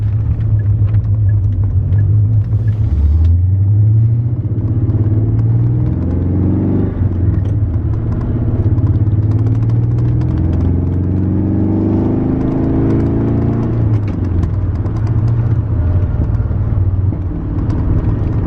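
A deep, rumbling V8 dual exhaust drones from inside the closed cabin of a C4 Corvette with windows up, rising and falling with revs as the car accelerates and cruises, steady and muffled.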